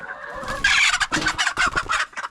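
A chicken on a small Tennessee homestead clucks in a quick, close, loud burst of squawking notes with no voices.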